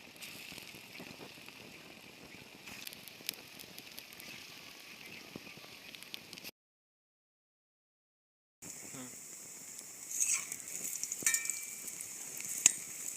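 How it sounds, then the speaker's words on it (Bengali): Masoor dal (red lentil) batter pakoras deep-frying in hot oil, a steady close crackling sizzle that cuts out briefly and then returns with sharper pops and spatters. "পাকোড়াগুলো প্রায় ভাজা হয়ে গেল আমার"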